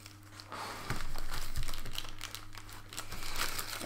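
Extra plastic foil wrapping crinkles and rustles as a package is unpacked, with a steady run of close, busy crackling and a few louder crunches, and no talking.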